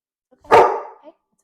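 A puppy lets out one short, close bark that tails off quickly in an otherwise quiet room.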